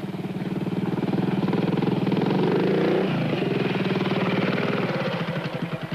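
A trials motorcycle churns through a slippery wet rut, its engine throbbing loudly and steadily nearby with a brief dip and recovery midway, with no voices.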